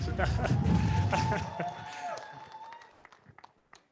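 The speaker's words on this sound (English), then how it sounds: "Let's clap." An audience claps at a presidential address, a dense burst of applause mixed with crowd noise and voices that fades over a few seconds into scattered, isolated claps.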